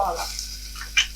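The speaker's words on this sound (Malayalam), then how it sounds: "ഇതൊന്ന് ലൈറ്റ് ബ്രൗൺ ആവുന്നവരൊന്ന് മൂപ്പിക്കാം." Crushed ginger and onion fry in a pan until light brown, giving a brief steady sizzle with a sharp clink of stirring near the end.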